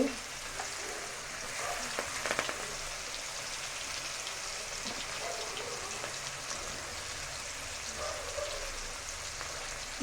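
Onions fry in a pan ahead of fenugreek leaves, giving a quiet, even sizzle with light crackling and a few faint clinks of the utensil, and no talking.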